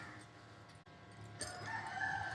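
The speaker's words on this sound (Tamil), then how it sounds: "சேவல் கரெக்டாக வந்து உட்காந்துட்டு பாடுமா பாடுன்னு" A rooster crows from partway off during a Tamil devotional Thiruppugazh recitation, its call rising after a brief gap and holding as a bright, drawn-out cry over low background murmur.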